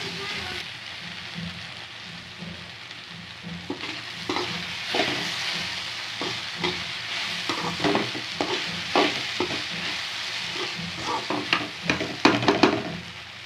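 Okra stir-fried in a pan for a Tamil vendakkai poriyal, a steady soft sizzle with scraping stirs that grow busier toward the end, while a voice talks faintly beneath.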